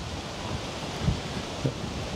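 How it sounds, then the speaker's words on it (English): Gusty wind buffets an outdoor microphone at a lakeside campground near a beach, a steady low rumble with a couple of brief heavier thumps, no voices. "Hopefully that microphone is being shielded from the wind, because it's quite windy."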